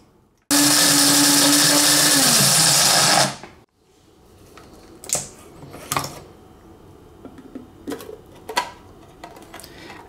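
A Cuisinart Supreme Grind burr mill grinds coffee on its coarse setting, a loud steady whirring drone for about three seconds that winds down abruptly, followed by quiet handling clicks and taps.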